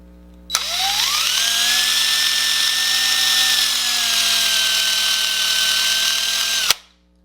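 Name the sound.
drill drilling apart Hot Wheels toy car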